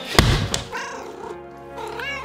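A pet kitten gives a loud, close meow with a drawn-out wavering cry, followed by a second rising mew near the end and a soft thud at the start.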